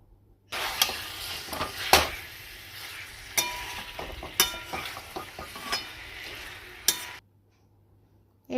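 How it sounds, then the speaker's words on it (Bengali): A spoon stirs fried hilsa fish heads through greens in a pan, scraping and clinking against metal over a steady sizzle, close and moderately loud for several seconds before stopping abruptly. "তারপর ভেজে রাখা মাছের মাথাগুলো দিয়ে দিলাম। মাছের মাথাগুলো কিন্তু একটু ঘেঁটে দেব যাতে সুন্দর করে মিশে যায়।"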